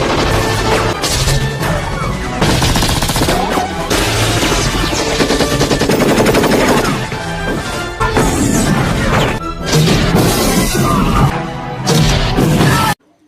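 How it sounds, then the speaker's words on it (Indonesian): Battle scene from a Rambo film: loud, dense, continuous gunfire and crashing blasts as military combat vehicles explode, layered over a heavy booming mix that runs almost without pause before cutting off abruptly. "Rambo masih bisa melawan balik dan berhasil meledakkan beberapa kendaraan tempur milik militer Rusia"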